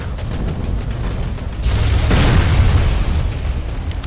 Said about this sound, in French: A shield control generator has been destroyed.